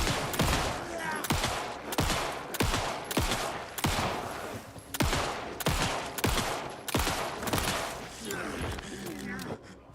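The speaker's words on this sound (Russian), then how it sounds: "Интересно, местные слышат эти выстрелы?" Gunfire in the video game Alan Wake 2, a rapid series of loud, punchy shots spaced roughly half a second apart over a reverberant backdrop, with a voice talking intermittently.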